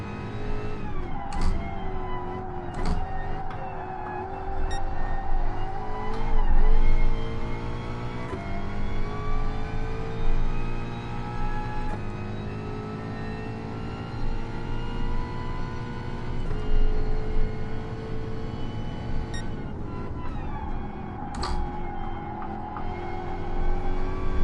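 A Ford Mustang Gr.4 race car lapping Brands Hatch in Gran Turismo Sport roars continuously, its engine note rising and falling through repeated gear shifts, braking and acceleration, with no voices.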